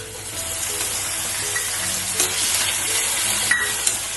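Tomatoes fry in a pan for moong dal khichdi, giving a steady close sizzle with occasional crackles and stirring scrapes.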